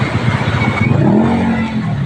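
Engine of a motorcycle with a sidecar running close by, a loud, steady low rumble with a slight rise in pitch partway through, filling the whole two seconds without talk.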